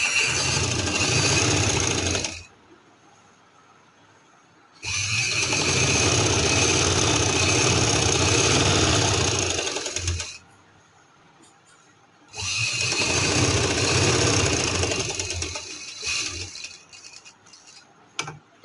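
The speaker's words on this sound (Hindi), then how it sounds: "अब मैं इधर से यहाँ तक सिलाई लगाऊंगी" A sewing machine stitches zigzag lace onto a summer frock in three long, steady runs of several seconds each, separated by short quiet pauses, close by with no talking.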